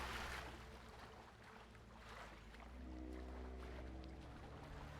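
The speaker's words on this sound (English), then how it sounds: "Guess we're going for a swim." A character swimming through water in The Witcher 3, heard as soft continuous splashing and lapping water over a low ambient hum, fairly quiet and steady throughout.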